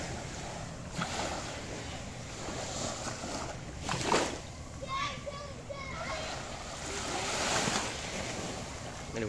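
A fast twin-engine boat runs on the open sea, its steady engine drone mixed with wave wash, splashes and wind noise through the whole stretch, while people talk over it.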